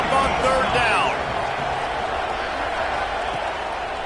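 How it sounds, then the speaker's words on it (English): College football crowd noise during an Indiana versus Ole Miss game on third down, a steady loud roar that swells briefly at the start with a whistling cheer, then holds as a constant background din. "crowd getting this defense whipped up on third down."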